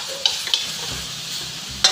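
Vegetables bought at a supermarket stir-fry in a pan, with a soft steady sizzle broken by a few sharp scraping clinks of a utensil against the pan, close by and without talk.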